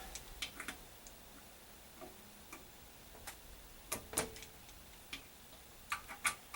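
Bolts on a 2006 Dodge Ram Chrysler 48RE transmission tightened to 150 inch-pounds with a torque wrench, giving quiet, sparse ratchet ticks and a few sharper clicks, close and faint, with no speech.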